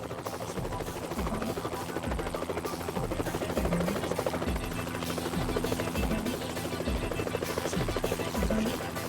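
A helicopter airlifts a tranquilized polar bear near Churchill, its rotor thumping in a steady, fast rhythm with a constant engine whine, loud and continuous throughout.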